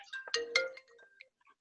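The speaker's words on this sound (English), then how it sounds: "Oh, that's my phone. I forgot to turn my phone off." A mobile phone ringtone plays a short, bright melodic jingle of quick tones that fades out, fairly quiet and with no talk over it.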